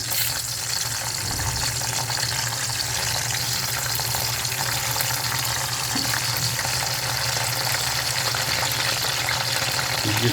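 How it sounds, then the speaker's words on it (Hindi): Egyptian eggplant and potatoes frying in hot oil, a dense, steady, loud crackling sizzle that holds unchanged throughout, no talking. "और इनको फ्राई कर देंगे"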